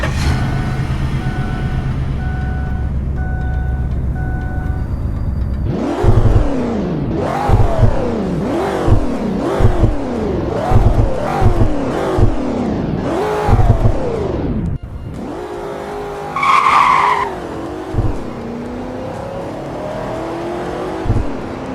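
A Mercury Marauder in the Roblox game revs hard in a string of about eight rising and falling engine sweeps, loud and close. A longer drawn-out screech then follows, likely the tires skidding.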